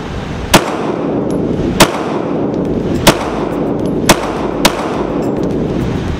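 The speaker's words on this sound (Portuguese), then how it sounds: "5 disparos rápido." Five sharp shots from a Taurus G3 T.O.R.O pistol at a shooting range ring out loud and close, spaced roughly a second apart over steady background noise.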